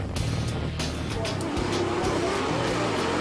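Dirt track race cars rolling toward the green flag in a heat race, a rumbling pack of engines with sharp pops and surges while a commentator talks over them throughout.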